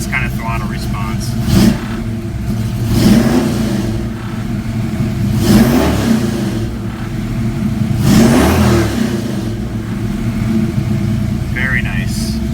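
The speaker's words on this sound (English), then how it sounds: "You guys can observe from perfectly cold engine, no warm up needed, and I have this kind of throttle response." Cold car engine fitted with Holley Sniper EFI, idling then blipped repeatedly in sharp revs, several quick throttle bursts over a steady idle, close and loud.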